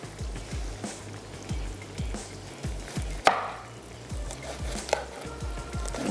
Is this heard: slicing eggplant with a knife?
yes